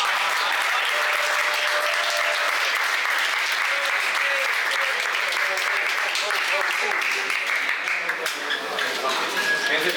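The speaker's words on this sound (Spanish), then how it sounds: "Regálenle un fuertísimo aplauso de vuelta a Guidoncito y a Lumpo" An audience at a Paraguayan rap battle bursts into sustained applause and cheering, a dense clapping wash that carries on loudly for the full stretch before thinning slightly at the end.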